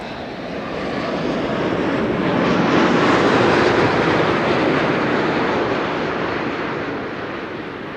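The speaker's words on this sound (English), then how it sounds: "This is KLM Flight 644, arrived from New York." A KLM airliner arriving at Amsterdam Schiphol from New York, a dense engine roar that rises to a peak as it passes and then gradually fades, with no talking.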